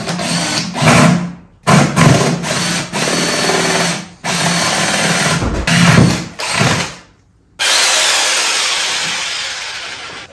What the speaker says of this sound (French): Je vais me prendre une mèche comme ça pour faire un gros trou